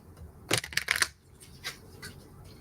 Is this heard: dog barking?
no